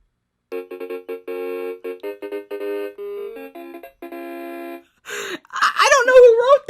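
A glowing Simon pattern-memory game toy plays a run of loud electronic beeping tones in quick rhythmic bursts, followed by a wavering, wailing synthesized sound effect at the end.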